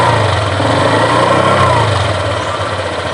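A 2019 Honda Vario 125 CBS ISS scooter engine idles smoothly and steadily up close, a continuous even hum with no revving throughout.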